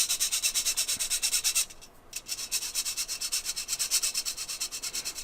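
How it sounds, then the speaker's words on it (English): Staedtler and Koh-I-Noor watercolor pencils rasp against wire mesh in quick rhythmic strokes, loud and close, with one brief pause before the steady grating scrape resumes. "I will try to lower the volume of the scraping sound here for you."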